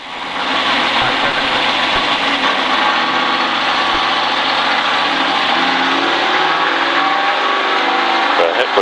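Car engine humming steadily and loud as the car starts rolling on a driving course, revving slightly, with people talking over it throughout.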